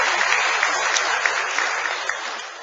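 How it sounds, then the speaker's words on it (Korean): A church congregation applauding warmly at a pastor installation service, a dense, sustained wash of clapping from many hands that tapers slightly toward the end. "우리 뜨겁게 박수 한번 쳐줍시다"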